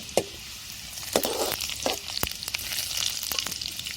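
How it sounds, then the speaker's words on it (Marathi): Cumin seeds hit hot oil with reddened garlic for a tempering, giving a lively crackling sizzle with sharp pops and stirring scrapes, steady and close throughout. "आपल्याला त्यात टाकायचे जिरे आता जिऱ्याची फोडी द्यायची आपल्याला भाजीला मस्त"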